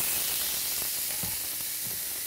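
Fresh tuna sears on a smoking-hot cast iron comal, producing a steady, even sizzling hiss throughout with a few faint low knocks underneath; no voices are heard.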